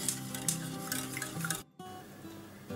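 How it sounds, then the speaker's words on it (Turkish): Salep and milk being whisked in a pot on the stove, a steady scraping and clinking of the whisk against metal with a rhythmic stirring texture, a brief break, then the stirring resumes. "Şimdi ocağımızın altını açıyoruz ve karıştırıyoruz."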